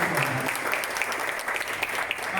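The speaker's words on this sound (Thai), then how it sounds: "ปรบมือให้กับคณะกรรมการนายก" A school audience claps steadily for a student committee, dense even applause throughout the short stretch with no talk.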